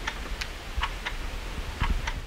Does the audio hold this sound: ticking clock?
yes